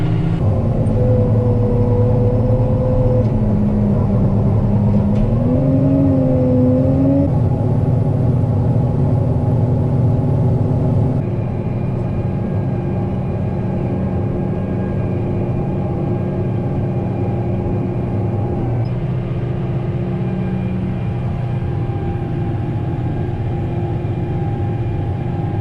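A tractor pulls a hay tedder across a triticale field, its engine giving a loud, steady, close drone that holds unbroken throughout.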